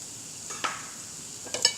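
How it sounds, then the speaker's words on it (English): Diced onions and a garlic clove sautéing in a pre-warmed pan, a faint steady sizzle punctuated by two short bursts of stirring scrapes, quiet and close. "we are sauteing some diced onions"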